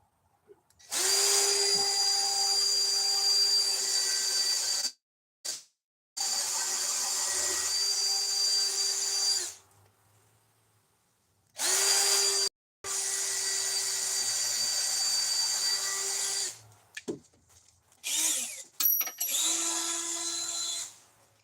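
A power drill bores holes in several loud, sustained, high whining bursts separated by short pauses, close by.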